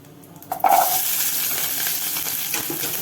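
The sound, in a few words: onions frying in a pan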